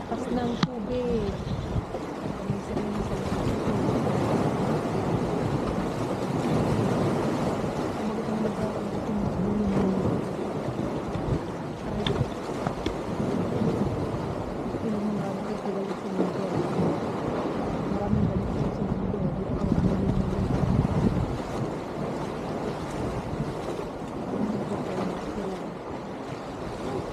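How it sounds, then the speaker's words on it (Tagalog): Strong rushing water churns beside a boat near Rimini, a continuous loud turbulent wash mixed with wind buffeting the microphone, holding steady for nearly half a minute. "super lakas ng tubig"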